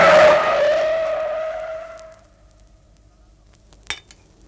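A car skids with a long, loud tire squeal as a radio drama sound effect, the screech fading out over two seconds, followed by quiet and a brief sharp impact-like thump near the end.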